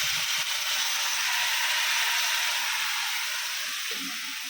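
Leafy greens fry slowly in a pan with lentil dumplings, giving off a steady, bright sizzle that holds evenly from start to finish, with faint low knocks now and then.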